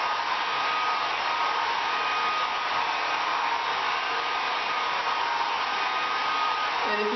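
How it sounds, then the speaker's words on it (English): A hair dryer blows hair dry in a steady, continuous whooshing roar, close and even from start to finish with no breaks. "I may blow dry it a little bit more just to get some of this part dry"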